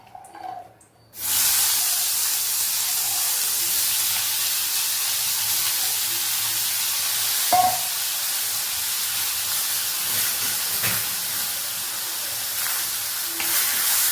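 Turkey berries sautéing in ghee in an iron kadai, which erupts into a loud, dense, steady hiss after a quiet second and holds for the rest of the clip, with a single brief knock partway through.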